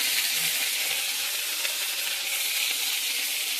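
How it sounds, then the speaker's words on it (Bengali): Hilsa fish fat sizzles in hot oil in a wok, a steady, close, loud frying hiss with no voices over it. "প্রথমে এই ইলিশ মাছের তেল যেটা আছে, যেটাকে লুকা বলে, এইগুলোকে ভেজে নেব কড়াইয়ে।"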